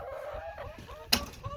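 Chickens on a family farm, some of them egg-eating hens, give soft scattered clucks and low murmuring calls across a short stretch, with one sharper squawk partway through.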